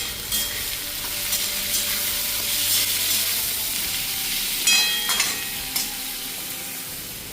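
Chicken and onion frying in a pan while being stirred, a continuous close sizzle with scraping strokes and occasional spatula clinks; a voice says a couple of words briefly.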